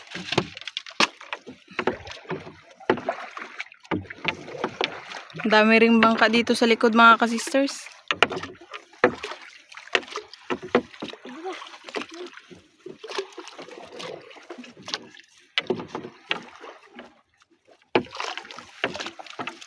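Paddled wooden rowboat out at sea among fishing nets, with intermittent knocks and water splashes from the paddling, heard beneath frequent nearby talking.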